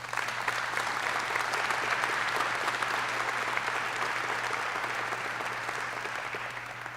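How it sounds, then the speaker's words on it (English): Sustained applause from an audience at a military change of charter ceremony, a dense, steady roar of clapping hands that fills the space and slowly tapers toward the end. "how about another round of applause for that rendition of the national anthem?"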